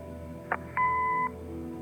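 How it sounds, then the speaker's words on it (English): A short electronic answering machine beep from the video game Kathy Rain: a brief click-like blip, then a steady two-tone electronic tone lasting about half a second over a quiet hum. "Leave a message after the beep."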